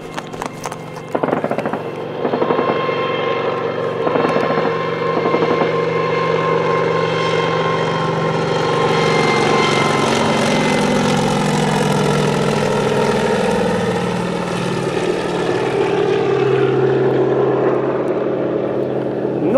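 Three petrol brush cutters, Kasei 3GC630 models, drone together at high revs, a buzzing, throbbing roar that runs without pause throughout, with no talking.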